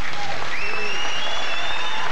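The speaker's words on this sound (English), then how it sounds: "Give them a round of applause, though, first," Loud applause from a TV game show studio audience fills the clip, with a voice calling out over the clapping.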